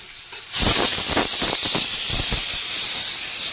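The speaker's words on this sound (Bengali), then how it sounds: "সবার প্রথমে তেজপাতা দিয়ে দেবো তেলের মধ্যে" A bay leaf dropped into hot oil sets off a sudden, loud, steady sizzle that starts after a brief quiet moment and keeps hissing on.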